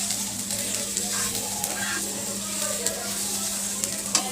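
Onion and chilli sizzle and crackle in hot oil in a pan, steady and close, with occasional stirring scrapes while someone talks over the cooking.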